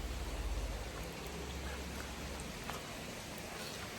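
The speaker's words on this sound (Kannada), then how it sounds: "It's drizzling." Light drizzle falls steadily as a soft, even hiss of fine rain, close and continuous with no voices.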